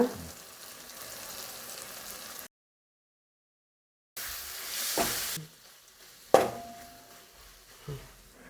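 Onions and tomatoes sautéing with chili powder in a pan for a village-style crab curry: soft sizzle and scraping stirs, broken by a silent gap and a sharp utensil clink, with no speech.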